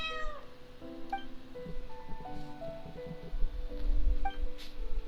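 A kitten in the Genshin Impact video game gives a series of clear, distinct meows spread across the clip, standing alone over faint game ambience and a low rumble.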